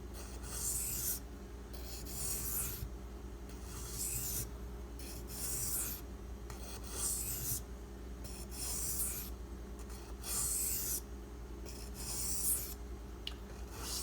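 A lockback knife blade stroked across a drying sharpening stone, giving steady rhythmic rasping scrapes roughly every second, close and moderately loud, with no talking.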